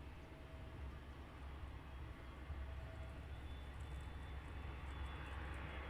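An aircraft on approach at foggy Luton Airport produces a faint, distant, continuous low rumble and roar that builds slightly over a few seconds amid steady outdoor background noise.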